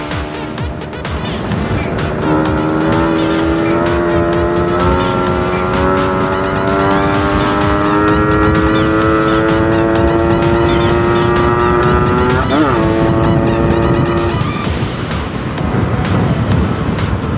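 A Kawasaki KR150 motorcycle engine drones loud and close on a test ride, its pitch climbing steadily through the revs, dipping briefly at a gear change, then easing off, with wind rushing over it.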